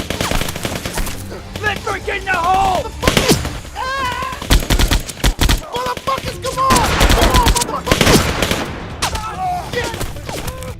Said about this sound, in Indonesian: tiba-tiba mereka dikagetkan dengan tembakan dari beberapa arah